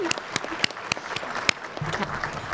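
Graduate awards ceremony audience applauding, a steady patter of many hands clapping with a few sharper individual claps standing out, moderately close and unaccompanied by speech.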